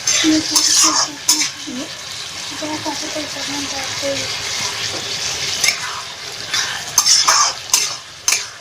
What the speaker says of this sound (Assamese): এতিয়া বিলাহীখিনি দি এনেকৈ মজাই থাকিম